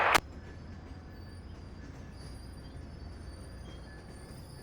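The Amtrak Cardinal passenger train at a former C&O depot in West Virginia coming to a stop, a low steady rumble of railcars rolling slowly nearby, with a faint thin wheel squeal held over it throughout.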